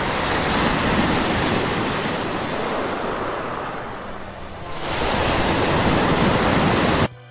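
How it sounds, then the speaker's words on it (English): Sea waves surging and breaking in a continuous broadband wash, steady and fairly loud, with a brief lull in the middle before the surf swells again, no voices. "I will download sea waves and people talking sound effect for my video."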